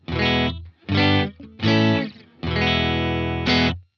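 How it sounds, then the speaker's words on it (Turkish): A clean electric guitar tone from a Universal Audio Dream 65 amp with no effects rings out in four separate strummed chords, the last held long and ending in a short accent. "Önce size Clean Sound'umu bir duyurmak istiyorum. Dream 65'ten geliyor Clean Sound'um."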